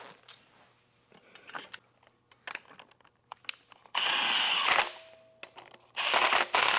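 Short ratcheting clicks and metallic tool contacts come up close as T50 Torx bolts are run in between the turbo and the exhaust manifold on a Ford F-150 3.5L EcoBoost. Two loud sustained whirring bursts of a power tool break in.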